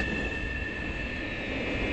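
A train in a 3D animation rolls on steadily, a continuous rumbling ride with a thin sustained high squeal of wheels, no talk.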